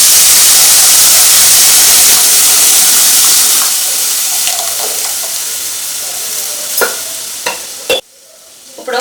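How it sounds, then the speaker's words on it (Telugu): Cooked dal tipped into hot tempering sends up a loud, steady sizzle and hiss that slowly fades as the pan settles, with a few sharp clinks of a ladle or vessel near the end. "ఇలా తాలింపు మొత్తం వేగిపోయాక పప్పు మొత్తాన్ని వేసేసుకుందాం."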